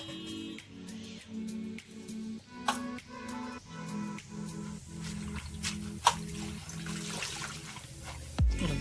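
Leafy greens for a vegetable dish being rinsed by hand in water, with repeated splashing and sloshing strokes in a steady rhythm, close and fairly quiet, ending in a louder splash.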